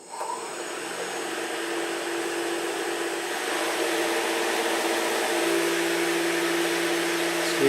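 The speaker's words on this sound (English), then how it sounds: "So you can see the motor is running" Brushless motor spinning up, a smooth whirring hum that rises from a soft start and settles into a steady, even drone with no talking.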